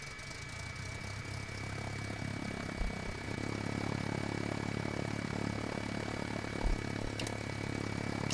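A Cessna C152 propeller engine in a flight simulator runs as a steady, even drone with a low, constant hum and no voices over it.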